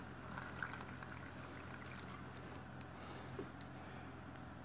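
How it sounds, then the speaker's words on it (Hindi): Cold water poured into a cup to make DXN cold coffee, a steady close liquid splash and fill sound running throughout with no voices. "ठंडा पानी डालेंगे इसमें"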